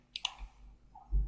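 Two quick close clicks of a computer mouse while editing an image in Photoshop CS6, sharp and light, followed by a soft low thump, otherwise quiet.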